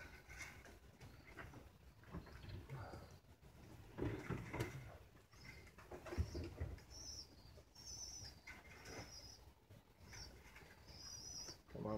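Opal pigeons coo steadily in a loft, soft repeated rolling calls near and far, with occasional chirps and a brief flutter of wings; no talking.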